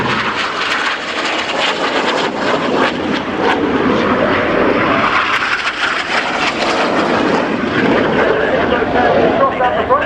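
Red Arrows jets roar overhead in an air show display at RIAT Fairford, a loud sustained jet rush swelling and fading across the sky, with a commentator talking over the PA throughout.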